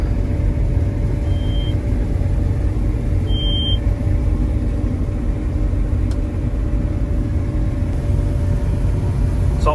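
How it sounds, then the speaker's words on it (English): A combine harvester's header slowly scooping up spilled winter barley, heard as a loud, steady engine drone with a low mechanical rumble and a brief faint beep, no talking. "I'm going to try and scoop it up with a header and then put it in the trailer"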